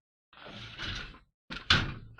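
A drawer slides open and its contents are shuffled and knocked about during a search, two close bursts of rummaging sound with a brief pause between them and a sharper thump near the end.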